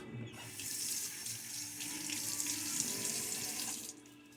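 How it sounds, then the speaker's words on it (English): Tap water runs and splashes on a face for a few seconds, faint and close, with irregular splattering before it stops. "Water on the face."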